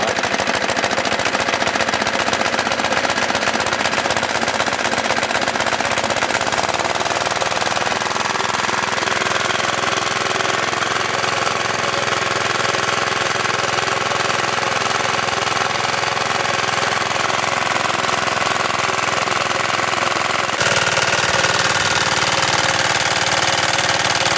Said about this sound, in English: good start on the Briggs Stratton here